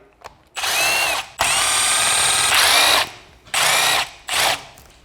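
A power driver backing T20 bolts out of the button trim on a Land Rover Defender steering wheel: several loud, close whirring bursts of a second or so each, separated by short pauses.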